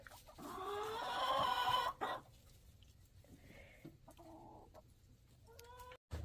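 Chickens cluck and squawk inside a coop at close range, with a loud burst of calls early on, then scattered softer clucks and short cries.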